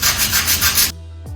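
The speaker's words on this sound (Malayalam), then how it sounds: "ഇനി നമുക്കിതൊന്ന് സാൻഡ് ചെയ്ത് കൊടുക്കാം." Sandpaper rubbing back and forth over hardened filler patched into holes in a hallway wall, a loud, steady scratchy scrubbing in repeated strokes that stops abruptly near the end, leaving near silence.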